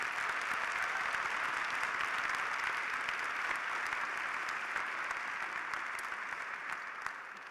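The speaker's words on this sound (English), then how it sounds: "Let's applaud these wonderful faculty members." A large commencement audience at the University of Maine applauds faculty award recipients, producing dense, steady applause that fills the whole span and eases off slightly at the end.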